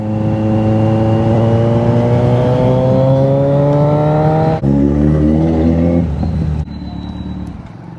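A Kawasaki Z900 motorcycle rides along a road, its engine giving a loud, steady rising whine that drops sharply twice as gears change, with no talking.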